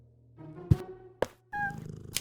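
Cats in the point-and-click video game Deponia, with a soft purr, a few sharp thunks, and a short tonal meow near the end.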